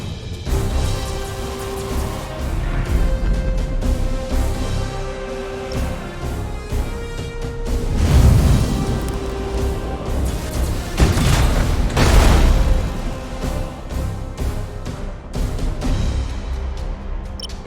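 Warship main battery guns fire in the Battlefleet naval game, heavy booms swelling over a continuous rumble of engines and battle noise, with game music tones threading underneath.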